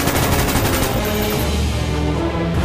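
Rapid bursts of machine gun fire rattle loudly and continuously in a Kratos Helluvaverse scene, dense overlapping shots with no pauses.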